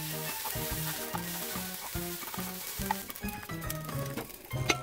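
Yakisoba noodles and seasoning powder stir-fried in a pan give a steady low sizzle with occasional scraping stirs, partly buried under louder background music with a clear melodic beat.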